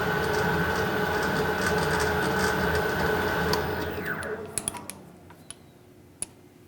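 A lathe cuts a metric thread, a steady whirring hum with motor whine that winds down toward the end, followed by a few sharp isolated clicks and taps.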